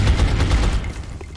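A burst of suppressing automatic gunfire in the video game XCOM rattles loudly and rapidly for about a second, then fades, with no talking over it.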